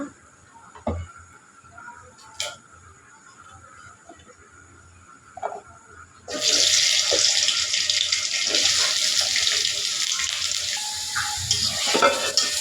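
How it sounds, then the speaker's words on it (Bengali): A few pieces of potato dropped into hot oil burst into a loud, steady sizzle halfway through, following quieter kitchen clinks and taps, close and continuous with no voices. "বন্ধুরা কয়েক পিস আলু ভেজে নিব গোশের ভিতরে দেওয়ার জন্য।"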